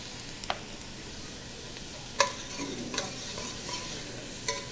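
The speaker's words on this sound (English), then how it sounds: "we're going to put some minced garlic in there" Minced garlic frying with caramelizing onions in a pan gives a soft, steady low sizzle, broken by a few sharp clicks and scrapes of stirring.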